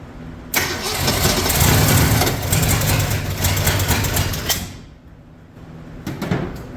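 A 1965 Mercury Comet engine, badly rusted and not run in ten years, cranks and catches, roaring loudly for a few seconds, then dropping off before a brief restart with sputtering.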